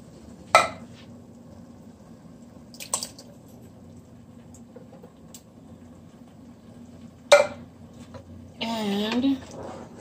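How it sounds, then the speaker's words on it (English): Keto chili stirred in a pot, a few distinct metallic scrapes and clanks spaced apart over a quiet background, followed by a short burst of a voice talking. "I'm actually going to give this a good stir."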